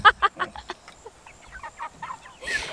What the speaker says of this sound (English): I have my chicken. I hold them upside down. They're flapping, and so I'm holding them and carrying them